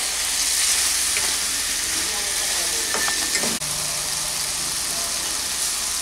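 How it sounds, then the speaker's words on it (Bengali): Cut brinjal stirred into a spice paste that has fried until its oil separates, making a steady broadband sizzle with a few soft spoon scrapes and clicks near the middle. The sizzle stays loud and continuous throughout, with no voice. "এখন আমি এর মধ্যে কেটে রাখা বেগুনগুলোকে দিয়ে দিলাম। ভালো করে মিশিয়ে নিচ্ছি।"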